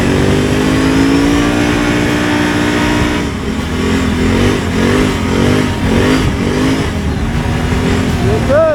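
A 91 horsepower Ski-Doo Renegade XMR snowmobile engine idling loudly then revving in a series of rhythmic rising and falling blips, close up, with some talking mixed in.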